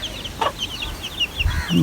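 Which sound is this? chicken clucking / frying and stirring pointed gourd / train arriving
chicken clucking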